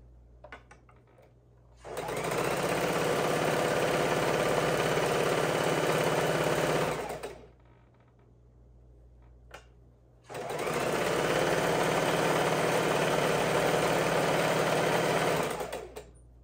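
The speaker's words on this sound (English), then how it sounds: "we're making sure our 1/4 inch seams are pretty on spot, as well as making sure our bobbin has not run out of thread" A sewing machine stitches quarter-inch quilt seams in two long, steady, loud bursts of about five and six seconds each, separated by a short pause with faint handling noise, with no talking.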